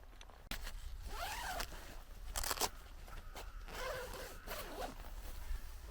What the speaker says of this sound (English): The zip is very, very smooth.